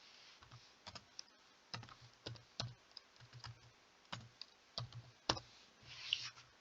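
Irregular keystrokes on a computer keyboard come in small clusters with brief pauses, fairly quiet and close, with no talk over them.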